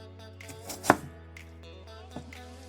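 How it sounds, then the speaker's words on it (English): A knife chopping onions on a cutting board for Jamaican curry chicken, a few close, sharp chops with one loud strike and a softer cut later, over a steady low background hum. "How you cut the onions not that important."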